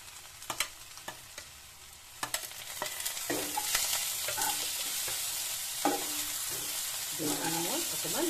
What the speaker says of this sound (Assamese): জলকীয়া দুটা দি দিম।